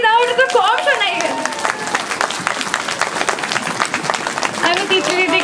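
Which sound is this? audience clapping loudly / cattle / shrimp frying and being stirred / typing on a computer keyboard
audience clapping loudly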